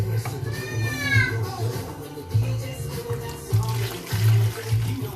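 Liquid poured into a cooking pot of stew with garlic and onions gives a steady splashing, watery rush, partly masked by children's voices and chatter nearby.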